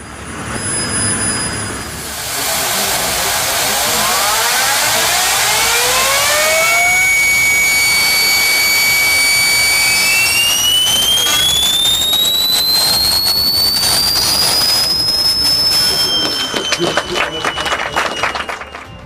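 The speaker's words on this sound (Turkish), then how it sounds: "Bu ses gökbeyi uçuracak olan Türkiye'nin ilk milli helikopter motorunun sesi." A loud TS1400 helicopter turboshaft engine runs steadily, with high whining tones that rise and sweep upward as it spools up, then settles into a roaring hum.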